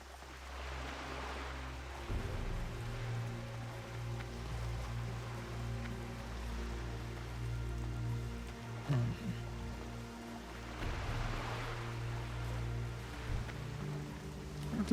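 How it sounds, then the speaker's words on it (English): Steady rain falls in the gray, marshy swamp of Dustwallow Marsh in World of Warcraft, a soft continuous hiss under a low ambient hum from the game, with no talking. "It's like rainy, gray skies."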